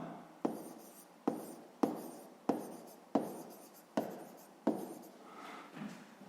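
A pen scratches across an exercise book in repeated strokes, each starting with a sharp tap and fading, about eight in a steady rhythm, close and quiet with no voices.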